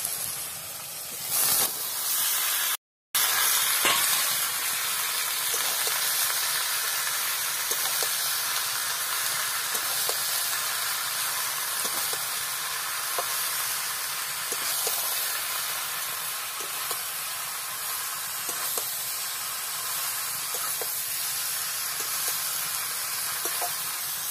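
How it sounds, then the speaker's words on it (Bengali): Raw jackfruit is dropped into a hot pan of fried spice masala in a village kitchen, setting off a loud, steady hiss and sizzle that holds close and unbroken throughout, with a brief dropout near the start. "মশলাটাকে আমার কষানো হয়ে গেছে, এবার আমি এঁচড়টাকে দিয়ে দেবো।"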